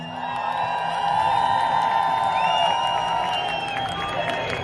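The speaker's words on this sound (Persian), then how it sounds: "لطفا تشویق کنید." A crowd at a peaceful Free Iran protest in Manchester claps and cheers loudly and steadily, with whoops and shouting voices mixed into the sustained applause outdoors.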